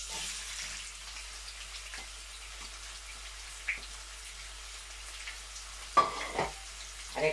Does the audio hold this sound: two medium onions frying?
yes